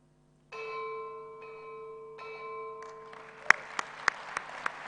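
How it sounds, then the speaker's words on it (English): A gong rung to close a policy forum ceremony: a long sustained metallic tone with shimmering overtones, struck again several times, followed by a burst of applause with sharp clear strikes over it. "He will officially close our meeting with ringing the gong."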